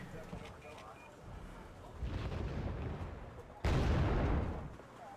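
Mortar fire in the Wargame: Red Dragon strategy game: heavy booming blasts with rumbling tails, the loudest arriving late and close, while someone talks quietly.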